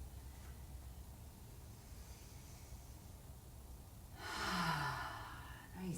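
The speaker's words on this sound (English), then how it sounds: "Nice deep breaths." During a yoga session, a single deep breathy exhale rises and fades near the end, close and soft against a quiet, hissy room background.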